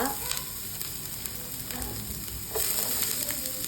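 Chopped onions and vegetables for egg thoran sizzle steadily in a hot pan, a continuous close crackle with faint stirring scrapes and a slight rise in intensity near the end.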